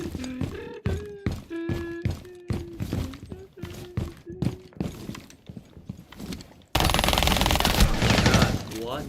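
Rainbow Six Siege gunfire rings out in rapid bursts of sharp, loud shots with mechanical clicks between them, then gives way to a dense, continuous roar of firing.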